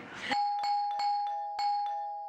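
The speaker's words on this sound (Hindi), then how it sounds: "ऐसा कौन है जो इतनी घंटियां बजा?" A doorbell rings repeatedly in a home, four or five sharp electronic chimes in quick succession, loud and clear with no talking over them.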